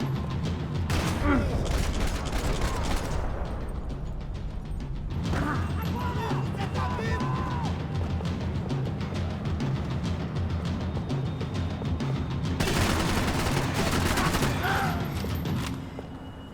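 Handgun fire in the video game Max Payne 3, sharp shots and crashing impacts in several dense bursts over a continuous bed of game noise and a talking voice.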